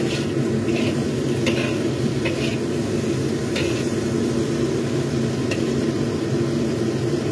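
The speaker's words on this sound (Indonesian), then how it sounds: "Lalu kita aduk hingga sampai dengan daun bawangnya ini layu." Green onion tops stirring and frying in a pan, a steady loud sizzle with light scraping taps at intervals throughout.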